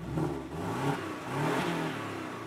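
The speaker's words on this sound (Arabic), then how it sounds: "هنشغل السيارة الآن أسمعوا كيف صوت السيارة" A 2017 Porsche 718 Boxster engine starts and revs, rising twice in a deep, throaty roar before settling into a steady rumble.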